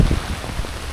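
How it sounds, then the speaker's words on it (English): Steady rain falls on a Warsaw street, a dense, even wash of drops pattering on wet surfaces, close and continuous throughout. "The rain is back."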